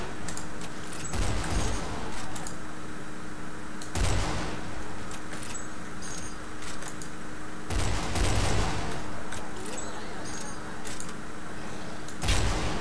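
Three .50 cal Barrett rifles in a video game fire at once, loud booming volleys repeating at intervals against a steady mechanical battlefield hum.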